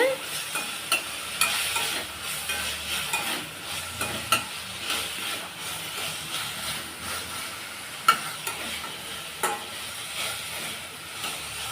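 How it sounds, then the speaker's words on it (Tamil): Pineapple pieces sauté in ghee for payasam, a soft steady sizzle punctuated by repeated spoon scrapes and taps against the pan, close and with no voices over it. "அன்னாசி பழத்தை இந்த நெய்லையே நல்லா ஒரு ரெண்டு நிமிஷத்துக்கு நல்லா வதக்கி விட்டுக்கலாம்"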